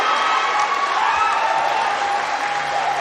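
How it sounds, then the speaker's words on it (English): A stadium crowd cheers and applauds for Carlo Biado at the 2021 US Open Pool Championship final against Aloysius Yapp. The roar is dense and continuous, holding loud and steady throughout with a faint voice underneath. "The Carlo Biado cheering section now in full voice."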